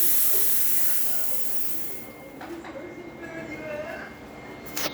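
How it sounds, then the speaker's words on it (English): A La Pavoni espresso machine's steam wand lets out a loud, bright hiss right after a full tune-up. The hiss fades away over about two seconds, leaving quieter clinks and faint voice-like sounds. "Check the steam. Nice strong steam."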